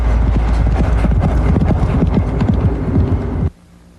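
Horse hooves clip-clop in a steady, brisk rhythm, loud and close, continuing for several seconds before cutting off abruptly.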